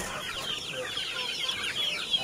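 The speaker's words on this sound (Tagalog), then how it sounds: "Diri atong mga gagmay nga mga alagang manok" Small young pet chickens cluck and chirp in a busy, overlapping chorus at close range in a rural farmyard, steady throughout with no talk.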